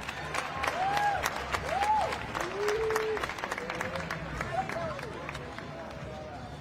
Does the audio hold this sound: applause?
yes